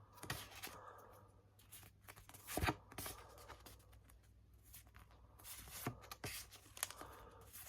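Paper lobby cards from a 4K movie release are handled and shuffled, giving soft intermittent rustles, slides and taps close by, with quiet gaps between bursts.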